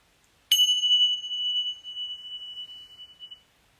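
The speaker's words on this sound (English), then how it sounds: "we're going to start by the ringing of the bell" A single meditation bell struck once: a sharp metallic strike followed by a long, pure ringing tone that slowly fades over about three seconds in a quiet room.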